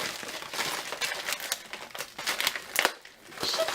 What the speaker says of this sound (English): Let's just open this thing up.